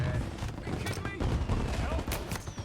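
Rapid bursts of gunfire from the video game Mafia 1 crackle through a dense, chaotic firefight, with shots overlapping in an unbroken loud barrage.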